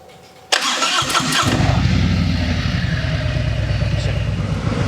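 Harley-Davidson motorcycle engine cranked during a diagnostic test: a short starter whir, then it fires and settles into a loud, close, lumpy idle with a steady low pulse.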